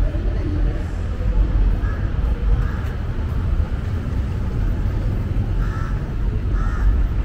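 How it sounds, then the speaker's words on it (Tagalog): Crows cawing in the city of Kuala Lumpur, a few short harsh calls rising over loud, constant street and traffic noise, moderately distant. "Ganyan kaano ang mga uwak dito, like kahit sa city."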